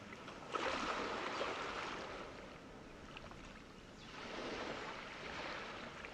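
Soft ocean waves wash in and recede in two slow swells, a broad gentle hiss of surf, distant and quiet.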